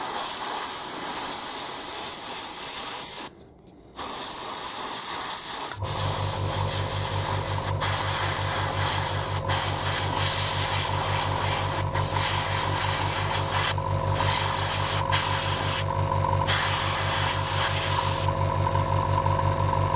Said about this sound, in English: let's carry on airbrushing